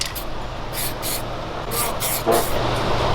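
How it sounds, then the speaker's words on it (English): Bursts of hissing spray from a paint gun spraying primer on a Hellcat Charger, several short blasts in quick succession over a steady low hum of background noise. "About to spray her down"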